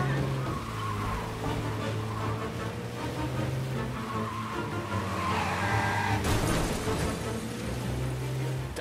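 A car in a chase roars and skids, tires scraping under a steady engine drone. A sudden loud burst near the end could be the crash, then engine noise continues.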